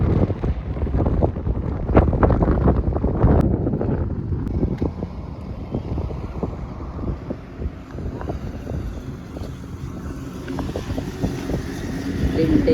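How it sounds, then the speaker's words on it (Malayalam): Strong wind gusts roar across the microphone beside a highway on a road trip from Aluva to Madurai via Pollachi, a steady loud buffeting rumble throughout with faint voices underneath. "ഇവിടെ ഭയങ്കര കാറ്റ് കൊണ്ട്"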